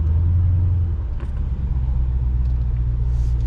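A 2020 Dodge Challenger Scat Pack Widebody engine drones loudly and steadily from inside the car while driving in track mode, a deep continuous rumble with a slight dip partway through.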